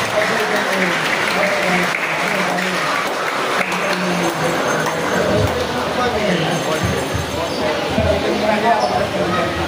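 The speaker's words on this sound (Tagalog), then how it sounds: "Bigyan naman po natin ng palakpak ang mga taong nagambag na ito sa larangan ng basketball." Sustained applause from an audience at a basketball legends recognition event in Sta. Cruz, Laguna, honoring contributors to the sport; dense, steady clapping runs throughout with crowd murmur and voices mixed in.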